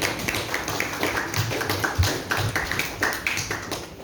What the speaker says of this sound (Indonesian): tepuk tangan buat videonya